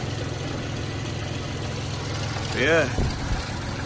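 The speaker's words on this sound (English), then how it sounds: "It's definitely some kind of ticking noise, I think. I don't know if it's coming from the engine or the belt" A 3.3 liter V6 van engine, started after sitting for eight years, idles with a steady low rumble and a rhythmic ticking, running close by throughout while someone speaks briefly over it near the end.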